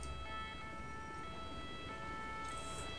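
An ambulance siren in GTA 5 with a firefighter mod, a steady wailing tone sustained over engine and traffic rumble throughout, fairly loud and continuous.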